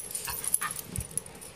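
A dog gives a soft, brief whimper or small yip, faint and close, amid light background noise with no talk.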